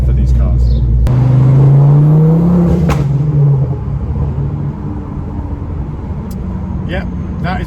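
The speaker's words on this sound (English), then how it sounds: "That burble in second gear, I love it." Ford Focus ST500, a Mk2 tuned to 340 bhp with a Miltech Ultimate exhaust and RS centre section, pulling in second gear: a loud, close, deep engine drone and exhaust burble that rises then settles, with voices talking over it.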